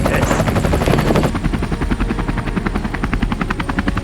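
A small helicopter flying over the Canadian Rocky Mountains near the Kananaskis Lakes, its rotor thumping in a loud, steady rapid chop alongside a constant engine whine, heard close from inside the cabin.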